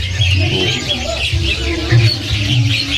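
A cucak pantai songbird sings bright, rapid chirping phrases close by, over a low background rumble and murmur at a bird market.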